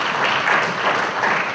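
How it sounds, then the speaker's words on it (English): Loud, dense applause from an audience at a school district panel discussion on home internet and device safety, sustained clapping throughout with no gaps. "help me give all of our panelists a big round of applause"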